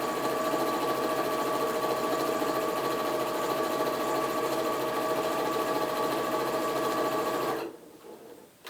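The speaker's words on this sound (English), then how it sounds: "then you want to stitch the bottom" A sewing machine stitches the bottom seam of a pleated fabric face mask with a 1/4 inch seam allowance, running steadily and loudly for about seven and a half seconds before stopping abruptly.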